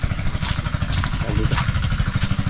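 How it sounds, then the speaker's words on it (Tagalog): Engine of a farm machine running steadily and close, a low rhythmic chugging throb with some clatter, apparently smoking while working a planted field, with faint voices in the background. "umuusok yung makina talaga natin ha?"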